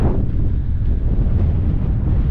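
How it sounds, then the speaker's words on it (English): Strong wind roars into the microphone, a loud continuous low rumble with no pauses, close and overwhelming. "Bloody windy here"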